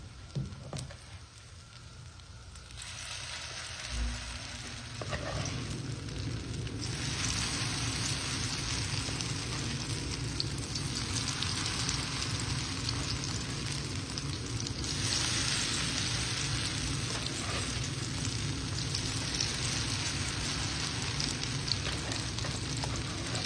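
Squash patties fry in a frying pan with a soft, continuous sizzle and crackle that steadily grows fuller as the pan heats, sounding close and fairly quiet.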